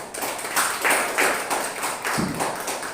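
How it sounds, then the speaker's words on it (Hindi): Applause at a business meeting, a small crowd clapping in loose, uneven bursts at close range for a few seconds without any talk. "अपने आप के लिए एक बार जोरदार तालियां"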